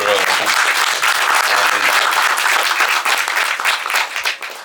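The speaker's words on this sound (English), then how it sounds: "Big round of applause for." An audience at a film distribution panel breaks into sustained, dense applause, loud and close throughout. A voice is briefly heard at the start before the clapping takes over and gradually tapers off.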